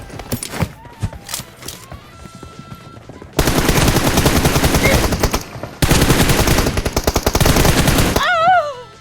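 Automatic weapon fire in the mobile battle royale game PUBG Mobile crackles in two long, loud, rapid bursts, preceded by scattered single shots and game sounds.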